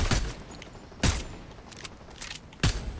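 Gunshots in the video game Fortnite: three sharp shots spaced about a second apart, fairly close, over a low background hum with no voices.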